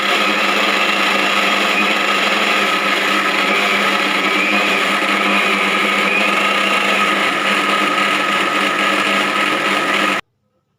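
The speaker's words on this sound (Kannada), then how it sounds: "ಈಗ ಚಿಕ್ಕ ಒಂದು ಜಾರಲ್ಲಿ ಹಾಕ್ಕೊಂಡಿದ್ದೀನಿ ಎಲ್ಲ ಒಟ್ಟಿಗೆ ನಾನು ಮಿಕ್ಸಿ ಮಾಡ್ಕೊಳ್ತೀನಿ" A mixer grinder runs steadily while it grinds cooled masala in a small jar, giving a loud, continuous high-pitched whirring whine that holds for about ten seconds and then cuts off abruptly to silence.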